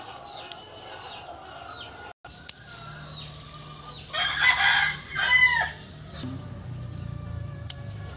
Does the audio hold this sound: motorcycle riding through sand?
no